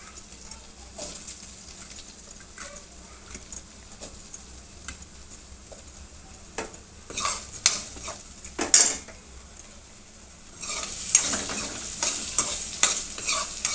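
Potatoes frying in a pan of aloo gravy with a ladle stirring them, a steady sizzle under repeated scraping and clinking of the spoon, louder and busier toward the end, with no talking.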